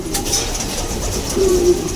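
A racing pigeon retired to breeding coos softly in a loft, with low, drawn-out murmuring notes near the end over a steady background hum and no talking.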